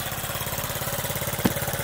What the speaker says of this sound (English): She's idling, boys and girls.